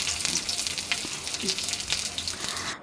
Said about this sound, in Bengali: এই পর্যায়ে আমি এর মধ্যে এবার দিয়ে দিচ্ছি কিছু রসুন কুচি